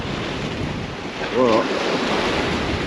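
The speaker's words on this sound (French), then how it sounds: "Même s'il y a du vent" Wind gusting over a seaside jetty during surfcasting, a steady buffeting roar against the microphone with surf-like noise beneath and a brief spoken word in the middle.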